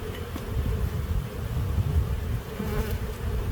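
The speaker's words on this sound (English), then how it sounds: "A bunch of bees on the ground now." Honey bees swarm around an opened backyard hive in a steady, dense buzzing drone that fills the whole stretch, close and fairly loud, with no one talking.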